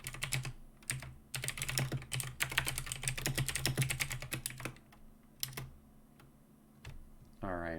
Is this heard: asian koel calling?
no